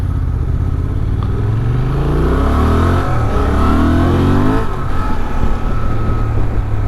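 A 2023 Honda Transalp XL750 accelerates with strong pickup, engine revs rising sharply through the gears with a brief shift dip, loud and close over steady wind noise, nobody speaking.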